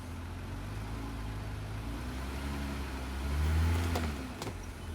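Vehicle engine idling and rolling slowly onto plastic camper leveler blocks, a low steady rumble that swells briefly as it climbs, then settles.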